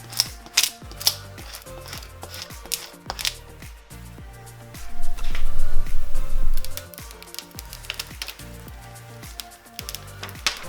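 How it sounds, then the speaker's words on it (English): A Cricut cutting machine whirs and clicks as it cuts out designs, mechanical motor runs with ratcheting ticks and stepping movements, loud and close with a stronger grinding burst midway. "It means I'm going to use my Cricut to cut out the designs"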